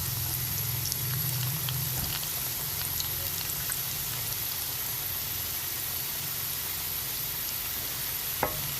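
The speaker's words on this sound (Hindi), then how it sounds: "अब इनको हम फ्राई करते हैं। हल्की आंच पे हमने करना है ताकि ये क्रिस्पी बने।" Samosas deep frying in oil over low heat, a steady soft sizzle and bubbling crackle that continues evenly throughout, close, with a couple of faint clicks and no talking.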